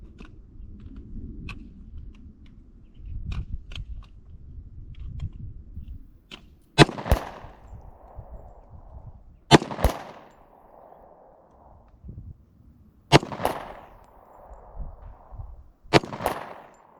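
Four loud, sharp pistol shots from a 1911 at target practice, spaced a few seconds apart outdoors, each with a short ringing tail, and quieter background rumble between them.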